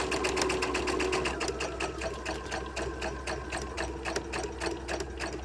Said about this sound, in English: I'm going to sew forward to the end of my fabric